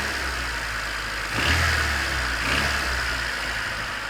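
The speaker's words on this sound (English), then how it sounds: "Seems to make the racket with all cylinders, so, well, at least on this cold startup here" A Honda CRX engine with an 85-horsepower motor idling on a cold startup, a steady close mechanical drone with a persistent ticking clatter, swelling briefly twice as it revs slightly.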